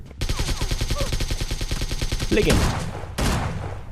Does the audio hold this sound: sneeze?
no